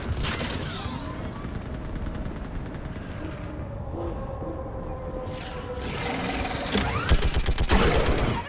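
Sustained gunfire in Mass Effect 3 combat, with dense, continuous bursts of shots against enemies, growing louder and heavier toward the end.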